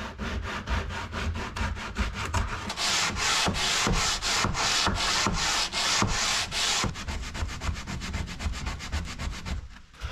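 Steady back-and-forth hand sanding on a wooden boat windlass part, easing crisp edges, quick rhythmic strokes close by, loud and continuous with no voices.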